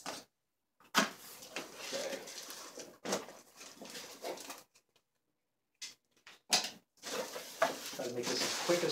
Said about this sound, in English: Probably hear my dog running up and down the steps here